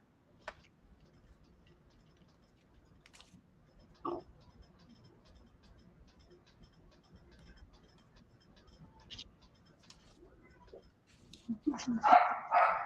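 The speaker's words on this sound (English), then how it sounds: "Do you hear Lola barking" A dog barks a few times at a distance, with faint clicks and light background noise, then louder barking or voices rise near the end.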